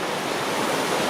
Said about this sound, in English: Okay, we're getting close now to the waterfall.